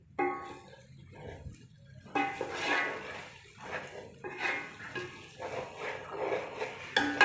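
A utensil stirs and scrapes through matar pulao ingredients in a cooking pot, giving repeated clinking and shuffling strokes at close range with short pauses between them.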